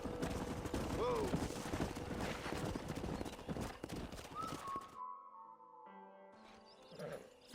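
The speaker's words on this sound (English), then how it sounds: "We got some fine horses." Horse hooves clip-clop in Red Dead Redemption in a busy, steady rhythm over the first five seconds, with a whinny and some gunfire mixed in, before the sound cuts to quieter music-like tones.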